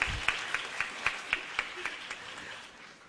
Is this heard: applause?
yes